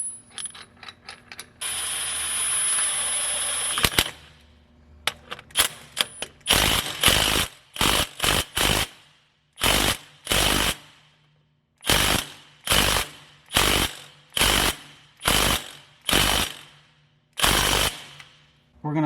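A crankshaft damper pulley bolt is torqued on a supercharger install, starting with a continuous mechanical whir and then moving into a string of sharp, evenly spaced ratcheting or impact bursts, loud and close, with no talk.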